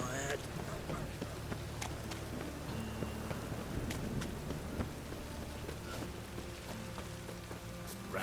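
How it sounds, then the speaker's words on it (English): Steady rain pours in The Witcher 3 open world: a dense, even hiss of drops hitting the ground, constant and close for the whole stretch, with no voices over it. "Rain again."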